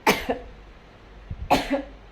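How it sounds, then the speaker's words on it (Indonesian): Two separate coughs, each a quick double burst, about a second and a half apart, loud and close with quiet between. "maaf ya, masih batuk tuh."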